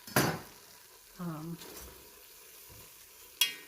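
Honey mushrooms frying in butter in a pan give a soft, quiet sizzle, with a couple of sharper stirring scrapes against the pan; a person speaks briefly.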